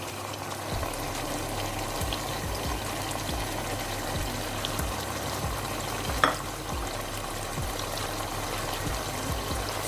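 Spices sizzle in hot oil with garlic and ginger paste while preparing daal mash: a steady, moderately loud hiss with soft rhythmic stirring thumps and a single brief clink partway through, no talking.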